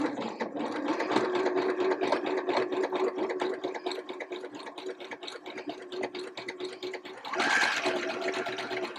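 Domestic sewing machine stitching a T-shirt seam with a 1 cm seam allowance, a steady, fast, rhythmic whirring run of needle strokes that holds close and continuous for several seconds with no talking.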